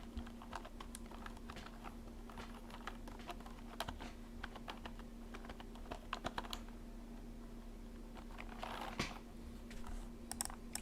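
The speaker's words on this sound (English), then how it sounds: "I'm going to type it on this one. I'm typing on." Steady rapid clatter of fingers typing on a computer keyboard, close and continuous for about eleven seconds over a constant low electrical hum.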